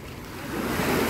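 Sea waves wash onto the beach at Sochi, a broad rushing surf that swells steadily louder, close and continuous with no voices.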